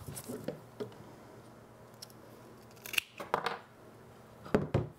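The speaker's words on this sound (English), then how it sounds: "so I'm gonna chop some of that off." A woody fig cutting gets its end clipped off with a few crisp, close snips at irregular intervals, sharp and isolated amid quiet handling, with no talking.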